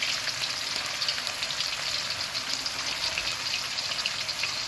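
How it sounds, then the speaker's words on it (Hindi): Chicken koftas sizzle and crackle steadily in hot oil in a pan, a dense, even frying hiss held close and continuous with no one talking. "व्यूअर्स आप देख रहे हैं कितने अच्छे फ्राई हो रहे हैं"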